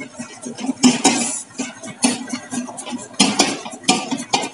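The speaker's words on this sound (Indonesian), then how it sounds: "Kita tunggu ini mesinnya ngaduk dulu ya" A mixer machine kneading pastillage dough for cake decorating gives uneven bursts of clattering and knocking from the bowl, loud and close, separated by brief quieter gaps, with no voices.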